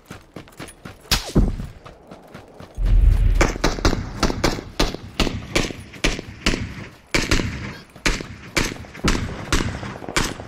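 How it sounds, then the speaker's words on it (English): Gunfire in the battle royale game PUBG on a hillside: rapid bursts of sharp, loud shots in uneven rhythm, with a heavy low thump near the start and a couple of voices speaking faintly. "Shots on me again."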